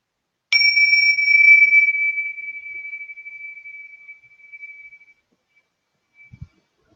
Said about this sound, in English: just sending this bell to wherever you are